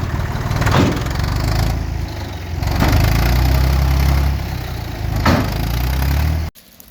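A tractor engine runs at a muddy wooden-house building site where the tractor has sunk into mud. The loud, close rumble rises and falls in revving surges, then cuts off abruptly near the end.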